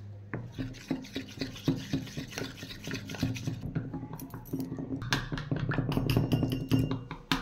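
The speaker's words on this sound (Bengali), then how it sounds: "এবার আমি ঠান্ডা দুধ দিয়ে ময়দাটা ভালো করে গুলে নেব।" A spoon stirs flour batter with cold milk in a bowl, making rapid rhythmic scraping and clinking strokes that hold an even pace and grow denser and louder toward the end.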